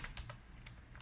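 Quick keystrokes on a computer keyboard, a few soft clicks in an irregular rhythm, faint and close against a low background hum.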